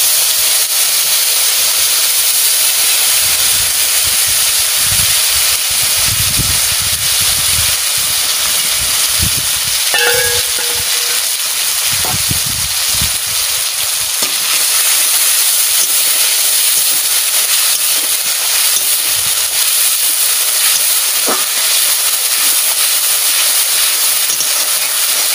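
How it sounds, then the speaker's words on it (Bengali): Spices hit hot oil in a pan and fry with a loud, continuous hissing sizzle that holds steady throughout, broken by a few faint clinks, with no talking. "মশলা দিয়ে দিচ্ছি তেলের পরে"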